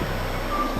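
A loud steady buzzer sounds in the NBA 2K21 basketball video game to end the half, a sustained low horn tone held throughout with no talking.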